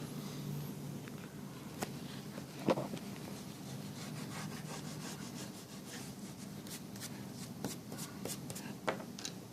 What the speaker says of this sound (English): So what I'll actually do is rub that line out.